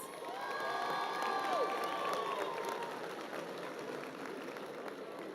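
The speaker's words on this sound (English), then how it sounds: "Let's give our teachers a round of applause." Graduation crowd at Hitchcock High School cheers and claps for the teachers, a steady, dense wash of applause mixed with shouts and whoops throughout, fairly near and sustained before tapering slightly.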